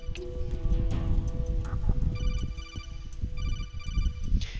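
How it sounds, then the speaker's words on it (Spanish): A phone-like ringing call tone in Metal Gear Solid 2 repeats in short electronic trilling bursts over a low throbbing hum and game ambience, fairly close, with no speech. "Cada vez que escucho este sonido pienso que me llaman al móvil."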